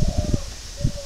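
A young spotted dove coos in short, soft, low rounded notes, a quick pair followed by another after a brief pause, heard up close.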